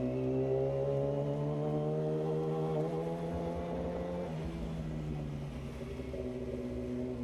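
A Yamaha R6 motorcycle engine hums in a steady, close drone, its pitch sliding gently up and down as it runs, with no voices over it.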